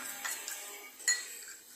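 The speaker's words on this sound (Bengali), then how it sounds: "মশলাটাকে আগে একটু ভালো করে মিশিয়ে নিচ্ছি।" Spice paste being stirred in a pan for aloo paneer curry, with soft scraping and a few light metallic clinks of a utensil against the pan, faint and close.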